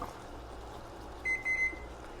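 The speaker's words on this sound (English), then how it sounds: "So my timer's about to go off on my 1 minute." A kitchen timer going off after one minute of boiling and stirring while baking an apple butter pound cake, two or three short, high electronic beeps in quick succession over quiet room noise.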